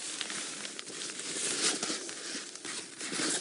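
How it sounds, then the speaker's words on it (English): Rain covers on a safari vehicle are being readjusted, giving soft crinkling, rustling and patter close by with brief scrapes, continuous and fairly quiet. "It's VM readjusting our rain covers"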